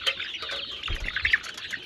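Chickens on a poultry farm cluck and chirp close by in a busy, overlapping chorus, with a few sharper calls standing out.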